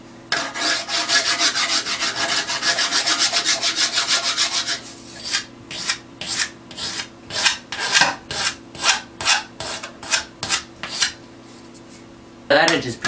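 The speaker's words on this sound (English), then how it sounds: "Still doing some secondary filing." Rhythmic rasping of a file worked along the wooden edge of a homemade boomerang: a dense run of quick strokes, then slower separate scrapes with short pauses between them, close and clear.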